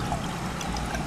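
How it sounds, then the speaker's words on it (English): Water poured into an HVAC condensate drain line to flush it, a steady trickling pour running continuously and close by with no talk. "flush it with a little bit of water"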